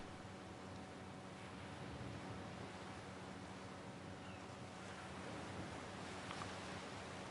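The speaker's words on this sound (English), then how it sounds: "I hear waves." Ocean waves in the video game Octopath Traveller 2 make a faint, steady wash of surf with a soft broadband rush and no talk.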